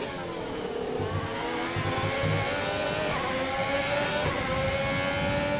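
An F1 race car engine in the F1 2020 game at the Canadian Grand Prix drones steadily at high revs, a continuous buzzing whine with slight pitch shifts, no talk.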